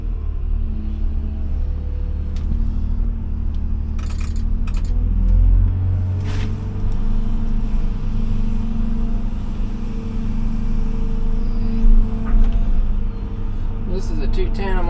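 A nearly new Hyundai 210 excavator runs while heard from inside its cab: a steady, quiet low engine rumble and hum continues throughout, with faint clicks and a brief heavier thump near the middle.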